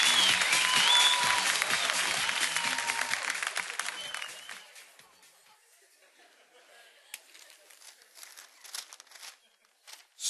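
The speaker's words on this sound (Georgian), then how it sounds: "რა თქმა უნდა თქვენი აპლოდისმენტების თანხლებით ვასო ფხაკაძე" A comedy show audience greets poet Vaso Pkhakadze with loud, dense clapping and some laughter, which fades after about four seconds, leaving scattered claps and footsteps in a quieter room.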